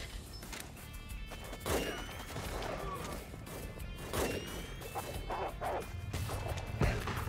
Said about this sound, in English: Yo, look how many dogs spawn.